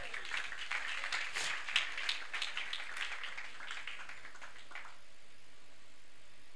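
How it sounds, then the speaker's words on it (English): A church congregation claps in a loose, moderately distant burst of scattered hand claps that thins out and stops partway through, followed by a quieter room tone. "Let's clap for Jesus."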